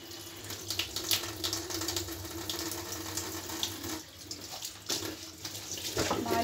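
Tap water runs steadily into a sink while dishes are washed outdoors, a constant splashing stream with occasional clinks, fairly faint, from a tap fed by a weak motor pump.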